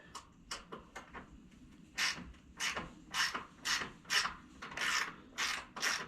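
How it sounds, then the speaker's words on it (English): A regular hand ratchet drives a screw into a log at an off-grid homestead log cabin build, giving a close series of rasping, ratcheting strokes in an uneven rhythm that grow steadier and louder toward the end, with no talking. "just getting a screw in. I use just a regular ratchet."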